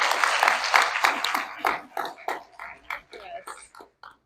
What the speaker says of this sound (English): So let's give them a round of applause for being on the platform.